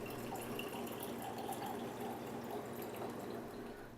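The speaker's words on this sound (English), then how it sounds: "Then slowly pour the contents of the bowl into the strainer." Brewed coffee slowly poured from a bowl through a strainer, a soft, steady trickle and drip that fades slightly at the end, quiet and close.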